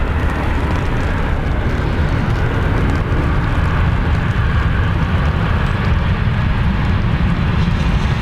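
A Ryanair airliner inbound from Poland roars steadily and loudly throughout, a continuous broadband engine rumble with no pauses or talk.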